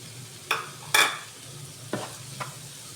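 Carrot and tomato stirred in a pan while making pasta: four separate scraping strokes of a utensil against the pan over a faint background hiss, with no voices.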